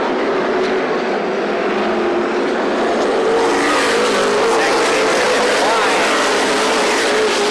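Race cars at Kalamazoo Speedway, including the number 46 car, roar past in a loud, continuous broadband engine wash that swells as the pack goes by, with a race announcer's commentary faintly present underneath.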